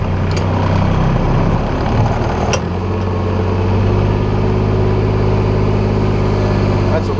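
Vehicle at a sawmill droning steadily as it drives along, a continuous low engine rumble, close and loud, with a voice talking over it.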